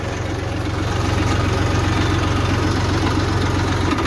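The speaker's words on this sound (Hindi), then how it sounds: "वो देखिए सामने ट्रैक्टर मशीन चल रहे हैं" Several tractors, a Massey Ferguson 241 DI and 1035 DI, idle and run beside a JCB 3DX Eco Xcellence loader moving mud, giving a steady, loud, low diesel drone with a rough knocking pulse throughout.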